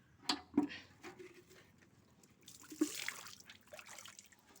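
Water pours and trickles in short splashing bursts into rubber latex for making rubber sheets, fairly quiet and close, with faint dribbling between pours.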